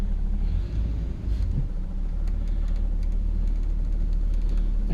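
1966 Ford Galaxie 500 convertible engine idling with a steady low rumble, close and continuous, with a slight dip in level near the start.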